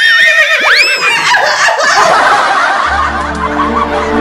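A horse neighs loudly, a rising whinny followed by snorting chuckle-like calls, heard alone and close with no talking.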